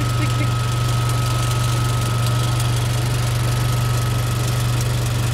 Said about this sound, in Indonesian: ada bunyi seperti klik.